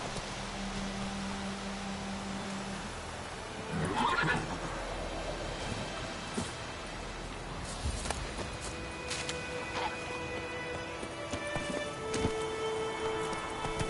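Horse in The Witcher 3 whinnying loudly once near the start, then hooves clip-clopping at a slow walk over a rain-like ambient wash, with light game sound effects layered on top.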